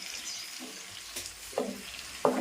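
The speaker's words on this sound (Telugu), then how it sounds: "ఫిష్ పులుసు చేసేటప్పుడు ఫిష్ ముక్కలు విరగకుండా కలుపుకోవాలి" Fish curry in a Nellore-style pot stirred gently, soft sizzling hiss broken by a couple of brief scraping knocks, near and quiet.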